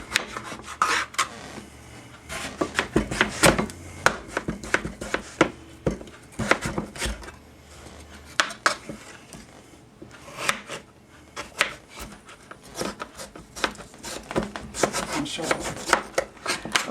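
A knife slices butternut squash into strips on a cutting board, with a string of close, sharp cuts and board knocks coming in uneven bursts, and no speech.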